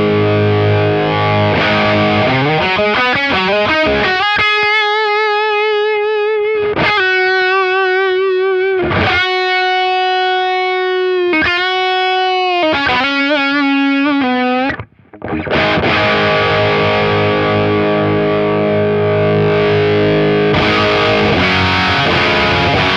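Electric guitar run through a Crazy Tube Circuits Space Charged tube overdrive pedal, playing loud saturated chords and sustained singing notes with rich overtones, a brief pause, then strummed distorted chords, with no talking.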